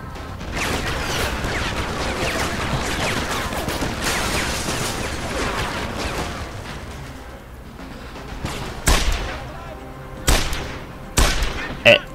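Revolver fire in Deus Ex: Human Revolution, a dense run of in-game combat noise followed by several sharp, loud gunshot cracks spaced out near the end.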